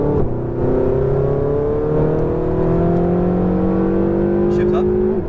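A Ferrari 488 GTB accelerates on a track, its engine note rising steadily and loudly through the run, heard from inside the car while a voice talks over it.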